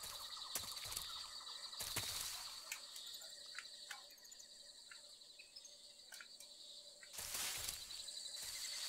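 Ambient jungle wildlife in the stealth game Metal Gear Solid 3: steady chirping birds and insects trill alone with no talk, with sharp bright bursts around two and seven seconds over a low, even background.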